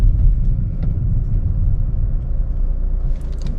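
A 2020 Honda City BS6 automatic hums under throttle on a test drive, a steady loud low engine rumble from inside the cabin with faint ticking near the end.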